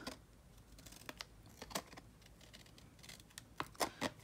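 Quiet, irregular snips and crisp clicks of scissors cutting through craft foam, close by and alone.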